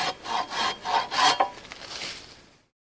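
A hand saw cuts through a poplar branch in a handful of rough, rhythmic strokes up close, then goes quiet.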